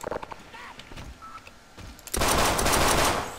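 An automated turret in the Half-Life co-op game opens fire in a sudden loud, dense burst of rapid gunfire after a stretch of quieter in-game clicks and noises.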